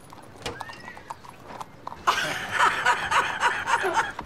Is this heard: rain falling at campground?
no